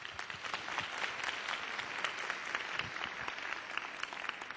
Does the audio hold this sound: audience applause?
yes